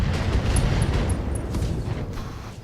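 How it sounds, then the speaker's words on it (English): Ammunition cooking off in a destroyed Locust mech in Battletech: a dense, loud rumbling explosion that fills the clip, fading slightly toward the end, with faint high chirps over it. "Ammo explosion."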